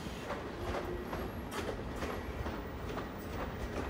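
An empty LIRR or Metro-North train rolls toward the yard, a faint continuous rumble with soft rhythmic clacks of wheels over track joints, heard from a distance.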